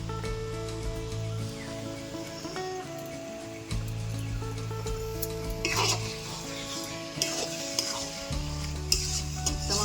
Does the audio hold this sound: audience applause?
no